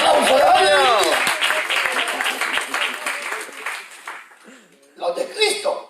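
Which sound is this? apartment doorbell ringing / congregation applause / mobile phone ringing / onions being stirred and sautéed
congregation applause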